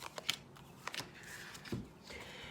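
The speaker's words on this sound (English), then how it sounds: "I shuffled the cards and you got the same cards" Tarot cards are shuffled by hand, a few quiet, crisp riffles and flicks in short bursts at close range.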